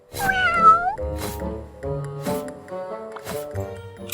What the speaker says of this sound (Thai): มีแมว